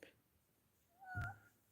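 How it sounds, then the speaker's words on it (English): A house cat meows for food, a short, faint rising call near the end of an otherwise quiet stretch, with a soft thump underneath. "my cat is asking me for food"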